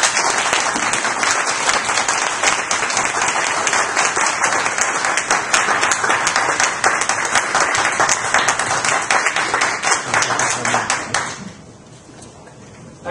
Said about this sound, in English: let's welcome our host and give him a round of applause, Mr. Philip Maung.